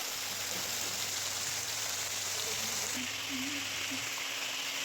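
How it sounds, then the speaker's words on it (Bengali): Soaked chickpeas and eggplant fry in oil in a kadai, giving a soft, steady sizzling hiss throughout with no break, fairly quiet. "বেগুন দিয়ে দিলাম কাবুলি ছোলা যেগুলো ভেজানো ছিল আমার আমি সেটাকেও দিয়ে দিলাম কড়াইয়ের মধ্যে"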